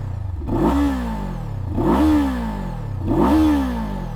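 A 2024 Kawasaki Z7 Hybrid motorcycle's parallel twin engine revs three times in a row, each blip rising sharply in pitch and dropping back to a steady idle, close and loud with no talking.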